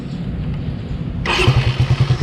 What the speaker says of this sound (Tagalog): Yan, start na yung motor natin, diba?